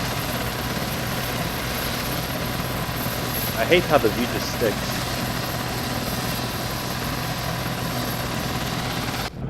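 AH-64D Apache helicopter rotor and engine noise in ARMA 3, a steady loud broadband whirring drone running throughout while someone speaks briefly over it.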